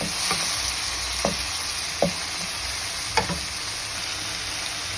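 Garlic, onion and tomato sauté in olive oil for an upo guisado, a steady sizzle running throughout with three or four distinct scrapes of a spoon stirring through the pan.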